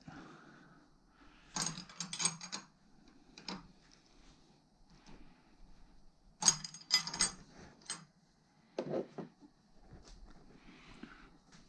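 A ratchet clicks in several short bursts while unscrewing an upper shock absorber bolt on an Opel Astra, close and fairly loud with quiet pauses between the rounds of turning.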